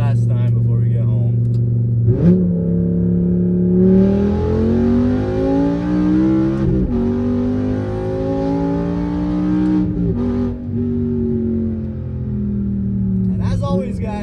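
A 2006 BMW M5 E60 V10 engine revs up hard and climbs through several gears, each upshift briefly dropping the pitch before it rises again, loud and close.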